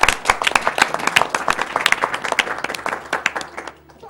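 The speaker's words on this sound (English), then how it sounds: "A round of applause for yourselves" Audience at a live speedrun charity marathon applauding, a dense burst of clapping from a crowd that thins out and fades over about four seconds.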